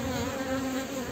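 Honey bees buzz densely and continuously around a queen at an open hive, a loud, close, steady droning hum with no voices.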